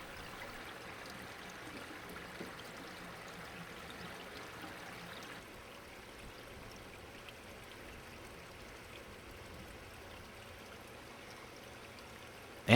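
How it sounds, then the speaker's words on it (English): Water trickles evenly over the media of a homemade trickle filter tower, a faint, steady splashing and dribbling hiss that continues without a break. "Notice how evenly the water flows over all of the media."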